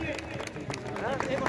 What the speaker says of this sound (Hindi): और एक बार तालियां बजाने का काम करें मेहरचंद परिवार के लिए।